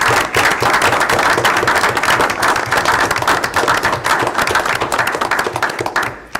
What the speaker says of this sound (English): So if you join me in a round of applause for all their years of service.